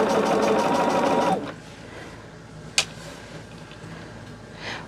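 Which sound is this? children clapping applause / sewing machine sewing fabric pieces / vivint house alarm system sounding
sewing machine sewing fabric pieces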